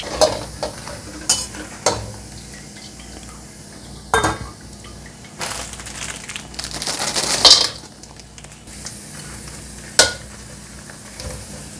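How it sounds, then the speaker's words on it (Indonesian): Krupuk crackers fry in hot oil in a pan, a constant sizzle and crackle broken by sharp scrapes and stirring clatters of a utensil, with a louder bubbling burst midway and no talk. "Pertama kita goreng kerupuk ya, langsung aja."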